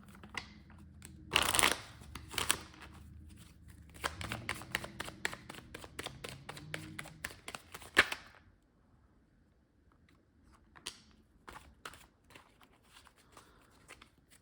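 A deck of tarot cards being shuffled up close for a reading, with bursts of riffling and quick flicks and taps, then quieter scattered card handling.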